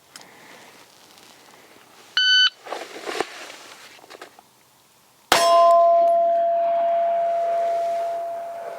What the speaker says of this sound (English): All right, Gil, same thing on the buzzer.